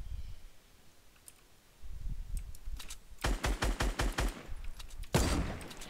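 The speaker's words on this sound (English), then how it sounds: "I think it's gotta be this dude who's shooting at me." Bursts of gunfire in the Fortnite video game: a rapid string of about eight evenly spaced shots, then a loud single blast near the end, with no talking over it.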